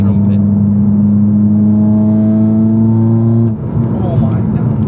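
A straight-piped Volkswagen Scirocco 2.0 TDI diesel revs loudly up close, its exhaust climbing in a strained, trumpet-like drone for several seconds before dropping back to a rough, rattling idle.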